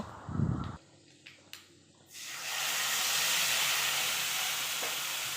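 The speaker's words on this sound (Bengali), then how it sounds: "মশলাটা দিয়ে ভালো করে ভেজে নেব" A spice paste drops into hot oil in a kadai tempered with whole fenugreek seeds and bursts into a loud, steady hissing sizzle after a few brief clatters, close and continuous.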